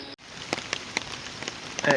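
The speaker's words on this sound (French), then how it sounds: "Du vent partout, ça pleut de partout." Rain falls in South Korea with wind around it, giving a faint, hissing patter with scattered drop impacts at close range.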